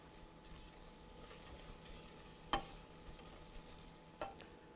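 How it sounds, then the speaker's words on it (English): Onions for pumpkin soup sauté in a pan with a faint, steady sizzle, broken by two sharp knocks of a utensil against the pan. "while those onions are sauteing"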